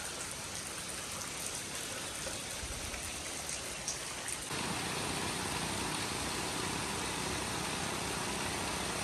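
Steady morning rain pours down, a dense continuous hiss that grows slightly heavier halfway through, with a faint engine idling beneath and no voices.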